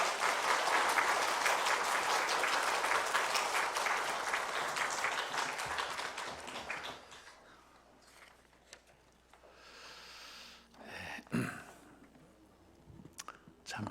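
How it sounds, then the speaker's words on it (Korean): A church congregation claps during a Sunday worship service, sustained applause that gradually fades out, followed by quieter room noise and a few scattered sounds. "박수로 모시겠습니다."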